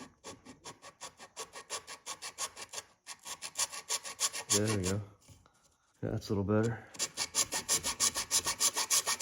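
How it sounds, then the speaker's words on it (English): A groove being filed into a wooden recurve bow with a small chainsaw file: quick, even rasping strokes in a steady back-and-forth rhythm, close and clear. Someone talks briefly during a short pause. "I started on like with a smaller chainsaw file on both sides"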